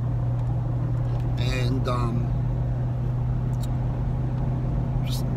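A car drives along a road in steady low, rumbling road noise, with someone speaking briefly over the hum.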